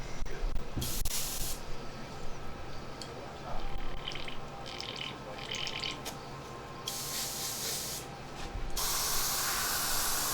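Black paint hisses from a spray can onto a black glove in several long, loud bursts separated by short pauses, close to the listener against a faint background hum.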